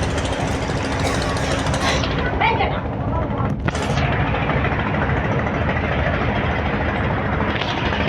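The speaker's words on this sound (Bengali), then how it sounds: "ইঞ্জিন টুটাল দেখতে পাচ্ছেন ইঞ্জিন" The engine of the M.V Prince Awlad 10 river launch runs with a loud, steady, rumbling clatter that fills the whole stretch, with a brief higher whine midway.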